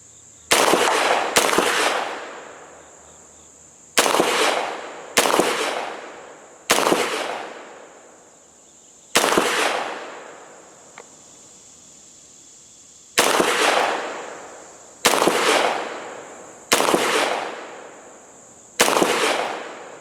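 A Gforce Jawbone 9mm pistol fires its first shots: about eleven sharp, loud reports at irregular intervals, some in quick pairs. Each crack trails off with a short echoing decay, and no one speaks.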